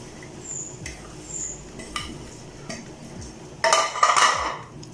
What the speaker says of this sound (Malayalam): ഇനി നമുക്ക് എല്ലാം കൂടെ കുക്കറിലോട്ട് മാറ്റാം. നമ്മൾ അരിഞ്ഞു വെച്ച ചൗ ചൗ ഇടുന്നുണ്ട്.